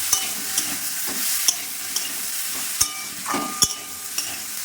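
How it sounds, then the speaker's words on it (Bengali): A spoon stirs new potatoes and peas in a spiced curry in a pan, with soft sizzling under a string of crisp clinks and scrapes against the metal, fairly close and moderately quiet. "2 মিনিট পর ঢাকনা খুলে আবার নেড়ে দিলাম"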